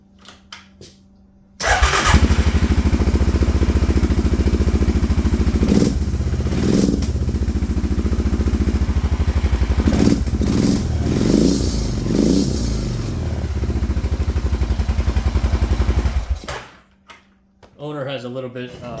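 A 2001 Suzuki Quadmaster 500 ATV, its no-spark ignition fault just fixed, starts and runs loud and close with a steady throbbing idle and a few revs, then shuts off; brief talk follows at the end.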